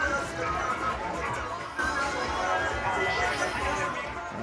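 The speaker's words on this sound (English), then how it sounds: "we still have a bumper crowd here down at the Wellington Oval" A large crowd at a Cup Match cricket game at Wellington Oval, Bermuda, gives a dense, steady hubbub of chatter and voices close around, with a commentator's voice over it.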